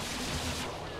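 Weapon fire in MechWarrior 3 online play: a dense, continuous roar of blasts and explosions fills the whole moment at steady loudness, with no voices over it.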